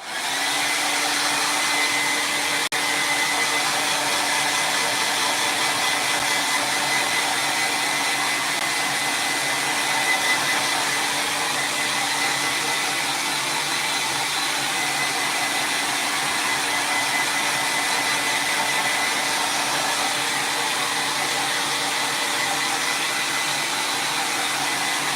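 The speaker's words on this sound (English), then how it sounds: "I'm gonna just use my hairdryer real quick and just dry this" A hairdryer blows steadily at close range for the whole stretch, a loud continuous whirring rush drying paint on a holiday wreath, with no talking over it.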